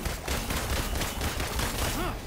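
Rapid gunfire in the video game Marvel's Avengers during a boss fight, a dense, steady stream of shots throughout, with a brief game sound near the end.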